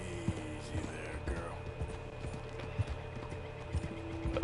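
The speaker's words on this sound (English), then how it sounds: "A female horse named Washington." Horse in the video game Red Dead Redemption II, rhythmic clip-clop of hooves with a whinny, in front of a steady game soundscape with faint whispery voice.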